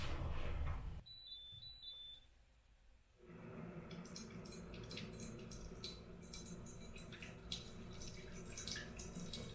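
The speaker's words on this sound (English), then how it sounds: "So we're gonna get some water from my hot water dispenser." Hot water streams from a home hot water dispenser after a few electronic beeps, making a steady close pouring rush that starts after a short quiet pause and carries on to the end.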